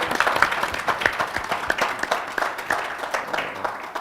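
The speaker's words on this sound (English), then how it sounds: "Can we give a warm round of applause for everybody?" An audience at a panel event on veterans living with TBI applauds, steady clapping from a crowd heard at moderate distance that slowly tapers.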